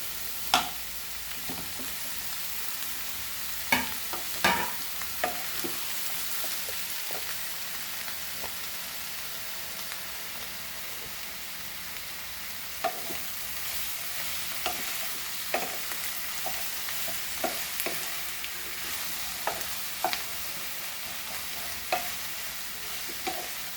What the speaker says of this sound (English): And fry this onion nicely. At this point we'll add our tomatoes also.